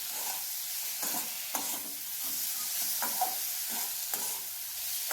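Flat beans frying in a pan with garlic: a constant soft sizzle with periodic scraping strokes as a spatula stirs them, close and alone.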